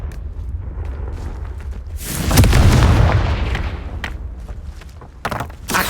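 A Confringo fire spell blast in Hogwarts Legacy, a booming explosive burst that swells and rumbles for about a second before fading, with lighter game effects and thuds around it.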